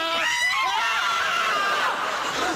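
Several people scream together in a sitcom scene, high shrill voices rising and overlapping continuously for the whole stretch, loud and close with a crowd-like babble underneath.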